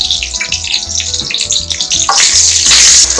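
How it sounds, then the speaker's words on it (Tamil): Garlic sizzling in hot oil in a pan, with curry leaves cooked for a turkey berry gravy. A close, loud hiss that swells and grows brighter toward the end, with no voices. "பூண்டு நல்லா வதங்கட்டும்."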